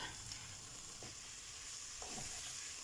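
Meat sizzling as it is stir-fried in a pan, a steady hissing crackle with a couple of brief scraping stirs, fairly quiet and with no talking.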